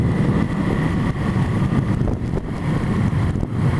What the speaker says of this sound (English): Great noise these little bikes make. It's very, very quiet, but what noise is there is kind of cute.